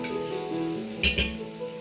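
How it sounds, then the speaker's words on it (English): Seasoning vegetables sautéing in a pan for crawfish étouffée, a close, steady sizzle with two short bursts of stirring or scraping partway through. "And so right now I'm just sauteing the seasoning,"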